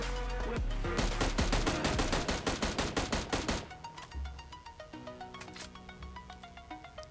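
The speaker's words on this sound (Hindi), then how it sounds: "यहाँ पे सामने घर में वो स्क्वाड रुक जाती है और वो मेरे टीममेट के ऊपर फायरिंग करती है।" M16 gunfire in a survival shooter video game comes in a rapid automatic burst, then scattered single and short bursts of shots over faint game ambience.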